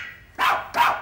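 Sampled Chihuahua bark played on a Simmons electronic drum kit, two quick sharp yaps in succession, clear and close against a quiet background.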